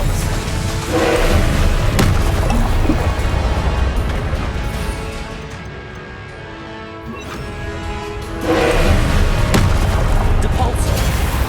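Incendio fire spells and Expelliarmus disarming spells go off in Hogwarts Legacy amid a dense, continuous barrage of booming, whooshing combat effects. Several sharp bursts stand out and the noise swells again near the end.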